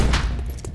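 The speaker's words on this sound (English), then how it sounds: "They were really close to the explosion." An explosion goes off during a breach in the video game XCOM: Chimera Squad, a loud booming burst with heavy low rumble that fades over a fraction of a second.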